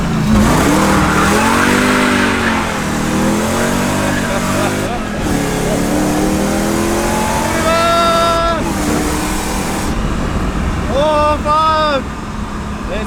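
A Mercedes engine accelerates and shifts through gears while driving, the revs rising in repeated pulls, with people talking and laughing over it.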